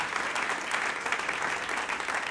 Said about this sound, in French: Nous allons applaudir ce matin.